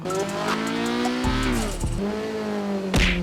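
A Honda Civic in the game GTA 5 drives with a steady engine drone that shifts pitch several times, and its tires give a brief squeal near the end. The sound is loud and continuous, with no talk.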